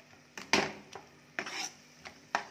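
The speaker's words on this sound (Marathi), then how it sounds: "सगळं वाटण घालून छान मिक्स करायचं आहे" Raw ground coconut masala paste being stirred and roasted in a pan for a sprouted matki curry, repeated scraping strokes of a spatula against the pan in an uneven rhythm, close and fairly quiet with no voices.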